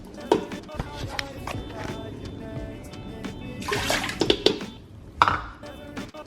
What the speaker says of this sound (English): I am going to take this, pour it over there. I'll do 2 cups of water.